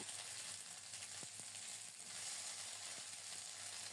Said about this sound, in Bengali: এক ইঞ্চি পরিমাণ আদা ছেঁচে রেখেছিলাম আদা সহ ভালো করে ভেজে নিয়েছি